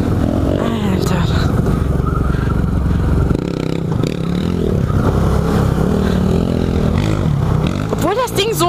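Can-Am Renegade 1000 ATV engine revving hard in an off-road park, a loud continuous roar rising and falling with the throttle, with people talking over it throughout.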